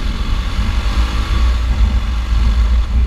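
Suzuki GSX 1000cc motorcycle accelerating along a dirt road, a steady loud low engine drone with rough throbbing that holds throughout without pause.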